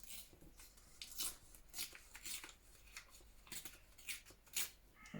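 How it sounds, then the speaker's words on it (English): Extra paper is torn off a handmade sit/stand matchbook notebook in a string of faint, quick, crisp rips and rustles separated by short pauses, close by and quiet. "then we've got a little bit extra that we can tear off"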